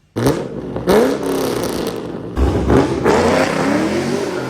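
A 5th generation Chevrolet Camaro engine revs hard and close up, with several sharp throttle blips rising and falling before settling into a loud, sustained roar.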